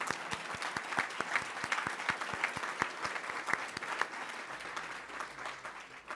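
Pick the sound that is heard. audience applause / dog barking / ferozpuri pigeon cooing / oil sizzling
audience applause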